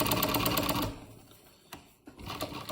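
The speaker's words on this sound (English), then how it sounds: "So we'll start by just doing a chain stitch" A sewing machine runs a chain stitch in a fast, even mechanical chatter, stops abruptly, then starts up again after a brief pause with a couple of clicks; its loose motor belt tends to slip.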